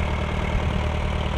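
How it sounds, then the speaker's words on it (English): The four-cylinder petrol engine of a Massey Harris Pony tractor idles in a steady, even rumble, close and moderately loud throughout, with no talking. "lot 341 is the Massey Harris Pony, 4-cylinder petrol engine"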